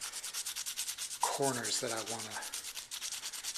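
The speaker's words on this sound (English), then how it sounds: "there's quite a bit of hand sanding involved" A bone guitar nut is hand sanded with short back-and-forth rasping strokes, close and clear, while someone talks quietly between and over the rubbing.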